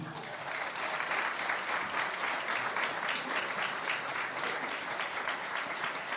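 An audience at a concert applauds the young singer, giving steady, dense clapping that holds loud and even throughout with no break.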